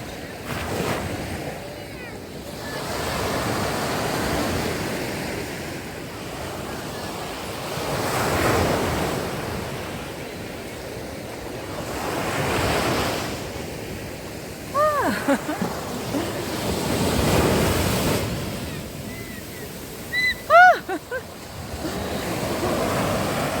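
Rough sea surf rolling onto the Odesa shore at Malyi Fontan and Arcadia after a storm, with repeated loud wave surges swelling and receding under steady wind, plus brief high bird-like calls near the end.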